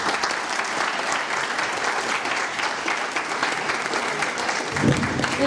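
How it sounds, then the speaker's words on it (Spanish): Steady, dense applause from an audience fills a university science seminar hall after a diploma is presented, a continuous wash of many hands clapping at even loudness for several seconds, with faint voices underneath. "Aplausos"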